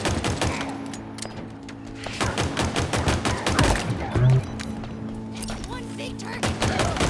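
Pistol fire in the video game Halo Infinite: rapid, sharp shots in quick bursts, mixed with other in-game combat noise and a person talking over it.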